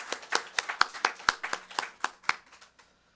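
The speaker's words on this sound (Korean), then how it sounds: "우리 박수 한번 부탁드립니다" A small church congregation at a Sunday worship service gives a brief round of clapping, with about a dozen distinct, sparse claps at an uneven rhythm that thin out and stop within three seconds.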